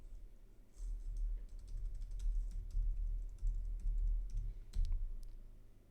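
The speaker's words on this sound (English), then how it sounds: "So I will just type in the password." Someone types a password on a computer keyboard: a quick run of light, close key clicks over a low background hum.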